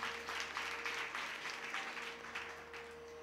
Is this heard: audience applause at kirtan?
yes